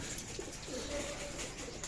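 Racing pigeons at a loft in Nueva Ecija give a soft, faint coo under a steady outdoor hiss, low and distant-sounding.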